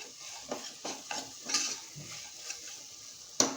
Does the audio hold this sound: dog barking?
no